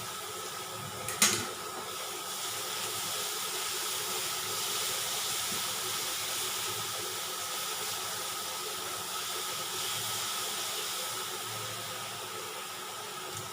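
Green chillies and red onion sautéing in a pan for a spicy puri bhaji, giving a steady, even hiss that carries on without a break after one brief clatter near the start.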